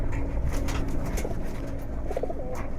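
Giribaz pigeons, including Satchila pigeons kept in a loft in Rupganj, coo steadily close by with soft repeated throaty calls over a continuous low background hum.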